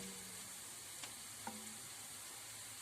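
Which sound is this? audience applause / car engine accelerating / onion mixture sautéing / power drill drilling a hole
onion mixture sautéing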